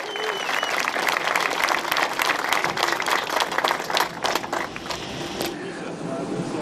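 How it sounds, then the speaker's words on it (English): An audience at the Gordie Howe International Bridge opening ceremony applauds, a dense, steady wash of clapping that fills the whole stretch at moderate loudness, with a few whoops and crowd murmur mixed in. "Give her another round of applause."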